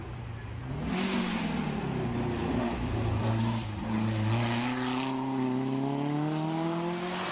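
A ŠKODA 200 RS vintage rally car engine revs hard and climbs in pitch, loud and continuous, with a rough, buzzy exhaust tone and no voices.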